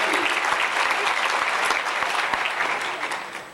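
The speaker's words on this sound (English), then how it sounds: "Give him a nice round of applause" Banquet crowd clapping for an award recipient, loud dense applause that holds steady and then starts to fade.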